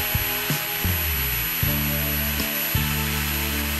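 A cordless brushless 4-inch NRT-PRO TG-99 angle grinder, 20-volt, runs at its middle speed setting of about 6900 rpm with a loud, steady motor whine that shifts pitch a few times as the load changes.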